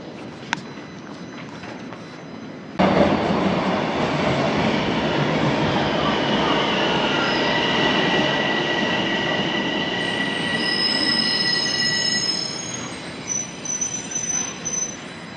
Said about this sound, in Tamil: இதுக்கப்புறம் வந்து இந்த சப்வேல தான் போகிற மாதிரி இருக்கும்.